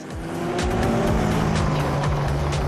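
The classic Volkswagen Beetle known as Herbie runs in the Kitzbühel Classic rally, its engine droning loudly and close with shifting pitch and tire noise as it drives on.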